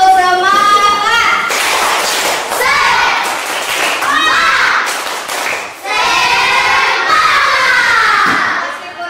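A class of schoolchildren shouting and chanting together in a loud, energetic burst, with thumps and claps mixed into the rhythmic group voices, close and continuous.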